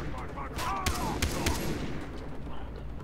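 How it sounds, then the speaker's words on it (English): Enemy gunfire in the video game Far Cry 3: a few sharp shots cut through a busy, noisy combat mix, moderately loud, with faint talk underneath. "There's another one shooting at me"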